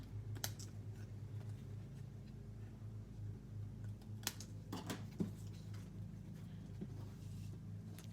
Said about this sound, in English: So just using my snips, we're going to trim those edges off.